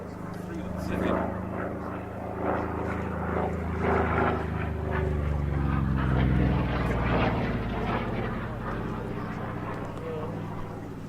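The piston engine of a Corsair fighter-bomber droning and rising as the aircraft passes overhead, a loud swelling roar with the pitch sliding downward, under a voice talking throughout.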